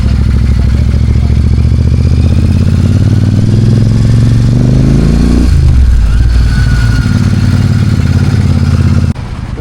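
Motorcycle riding on a road, loud and close with a steady engine drone and wind rush, pitch rising then dropping as the rider shifts, the engine note easing near the end.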